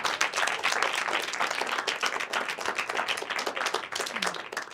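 An audience at a comedy magic show applauds a volunteer, Laura, as she returns to her seat: dense, steady clapping that fills the whole stretch at a fairly loud, even level without letting up.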